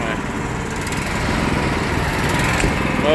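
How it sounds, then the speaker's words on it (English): Tractor engine warming up while hitched to a seed drill set for planting wheat, a steady, close, loud droning run with no break throughout. "Motor warming up."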